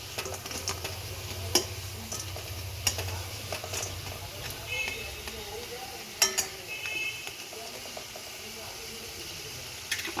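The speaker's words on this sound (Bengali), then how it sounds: "আর একবার এপিট ওপিট করে আমি আবার আমি ভেজে নেব" Palta leaf fritters crackle in hot oil over a medium flame, a steady sizzle broken by sharp clicks and scrapes as they are flipped, with a faint background hum.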